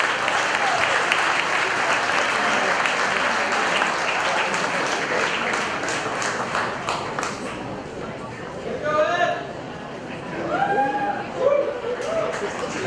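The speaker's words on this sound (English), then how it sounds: "Ladies and gentlemen, please, another round of applause" Audience at a 2021 design awards reception applauding a merit award winner, full steady clapping for about eight seconds, then thinning out as scattered claps trail off and voices break in.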